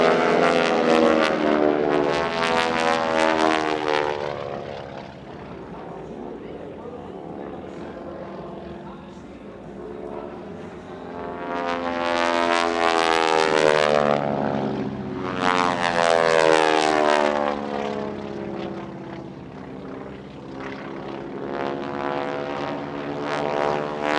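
Propeller aircraft flying in close formation at the Barksdale Defenders of Liberty airshow, their engine drone rising and falling loudly as the group makes repeated passes overhead.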